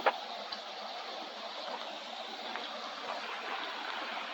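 Indian Creek in Hanging Rock State Park flows with a steady, soft rushing hiss heard from the bank, constant and unbroken, with no voices over it.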